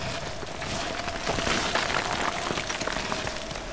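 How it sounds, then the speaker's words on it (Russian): Steady, dense hiss of falling rain in the video game Tomb Raider (2013) fills the whole stretch, even and fairly loud with no voices. "Блин, еще дождь идет."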